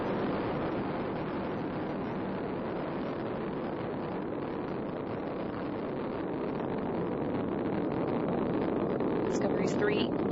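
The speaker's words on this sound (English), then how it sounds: "Discovery's 3 liquid-fueled main engines are now throttling down to reduce stress on the shuttle" The three liquid-fueled main engines of Space Shuttle Discovery roaring during the STS-131 launch, a steady, dense, broadband rumble that holds without a break, heard from a distance and loud throughout.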